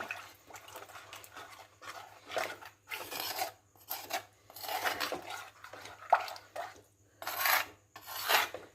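Quiet, rhythmic scraping of a spoon stirring fish curry around a pot, repeated strokes with brief pauses between them and no talking.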